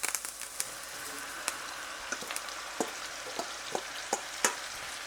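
Cabbage frying with sausage in a single pan, a steady close sizzle with sharp crackles and pops scattered throughout, no voices.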